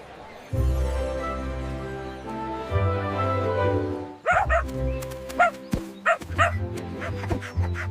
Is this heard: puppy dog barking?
yes